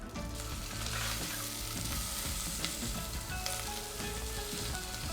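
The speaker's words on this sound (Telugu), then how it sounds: "ఇప్పుడు నెయ్యి వేడెక్కింది. ఫస్ట్ జీలకర్ర, తర్వాత కరివేపాకు," Cumin seeds and curry leaves fry in hot ghee with a loud, continuous, crackling sizzle that holds steady throughout at close range.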